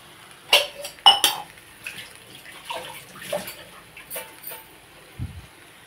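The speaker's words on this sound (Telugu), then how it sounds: "వాటర్ వేస్తాను ఒక గ్లాస్ పెట్టి." A glass of water splashes briefly into a pan of raw banana curry, with clinks of metal and glass around it, followed by quieter kitchen clatter.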